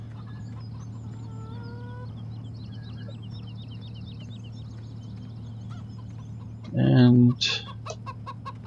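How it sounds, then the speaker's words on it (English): A loud burst of clucking and squawking free-range farm chickens in a video game near the end, after a stretch of quiet background hum with faint bird chirps. "Have some free range chickens, kind of just they go wherever they want around the farm."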